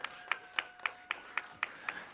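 Eight evenly spaced, crisp claps ring out in a steady rhythm, like a single pair of hands at a Congolese gospel semi-final concert, fairly close and alone over a faint background tone.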